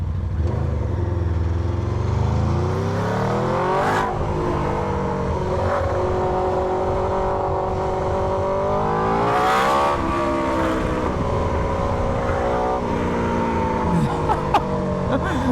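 MV Agusta XTrenta motorcycle engine running loud and close while riding, revving up and down through the gears with rising and falling pitch sweeps, steady throughout with no talk.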